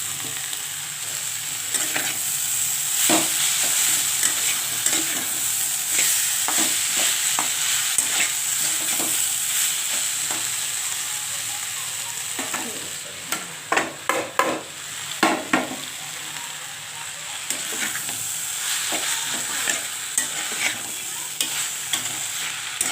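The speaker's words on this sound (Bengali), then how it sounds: "সবজিটার সঙ্গে আমি অল্প অল্প করে মিক্স করবো।" Susni and kalmi greens stirred into frying vegetables in a pan, a continuous sizzle overlaid with repeated scraping and clattering strokes of a spatula, busier in the second half.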